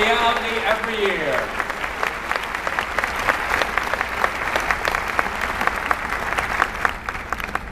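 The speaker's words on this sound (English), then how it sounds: "Big round of applause for Charlie, who helps make Tigerama a reali" Audience at the LSU Tigerama marching band show breaking into sustained, dense clapping after a brief spoken announcement, the applause continuing steadily and evenly to the end.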